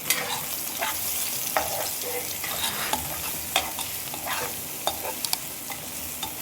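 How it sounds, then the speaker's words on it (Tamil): Ground green chilli and ginger paste sautéing for chicken chukka, a steady close frying sizzle with scattered sharp stirring clicks and scrapes throughout, no voices. "இது இந்த பச்சை வாசம் போகிற வரைக்கும் நல்லா வதக்கிடலாம்"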